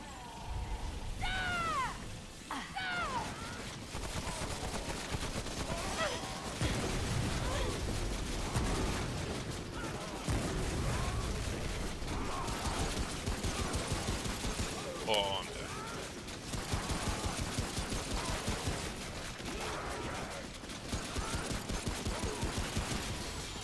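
Rapid gunfire bursts from Remnant: From the Ashes survival mode, repeated clusters of sharp shots across the clip with creature screeches mixed in, while someone talks throughout.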